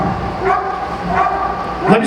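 A police K9 dog barks and yips during a Las Vegas SWAT team demonstration, several sharp close barks spread across the moment amid loud shouted commands.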